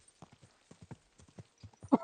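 Horse hooves clip-clop at a steady riding pace during mounted travel in Kingdom Come: Deliverance II, with evenly spaced hoofbeats and a louder snort or whinny-like burst at the end.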